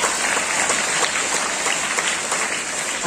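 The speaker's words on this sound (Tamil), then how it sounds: "அதற்கு எல்லாம் ஒரு உற்சாகமான கைத்தட்டல் கொடுக்கிறாங்க" An audience at a school literary club inauguration bursts into loud, sustained applause, a dense wash of many hands clapping together without a break.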